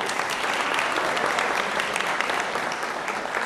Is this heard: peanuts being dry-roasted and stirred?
no